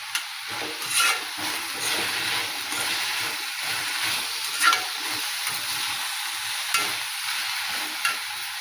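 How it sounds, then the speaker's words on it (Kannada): Bitter gourd pieces stir-fried in a pan over a high gas flame, a steady close sizzle with repeated scraping stir strokes and a few sharper clinks, no voices. "ಇವನ್ನ ಚೆಂದಾಗಿ ಹುರ್ಕೊತೀನಿ ನೋಡಿರಿ. ಗ್ಯಾಸ್ ಜೋರು ಐತೇನೆ ರೀ, ಹುರ್ಕೊತೀನಿ."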